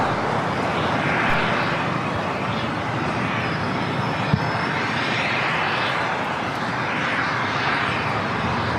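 ANA Boeing 787 Dreamliner jet at LAX airport, a loud continuous roar of jet engines with a broad rushing wash rising and falling slightly, heard close and without talking.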